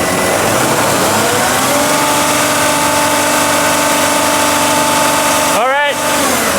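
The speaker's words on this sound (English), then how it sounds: "So go ahead and rev it." Engine of a Mercedes Sprinter van with low power and DPF issues running loud and steady, with the pitch sweeping upward in a brief rev near the end.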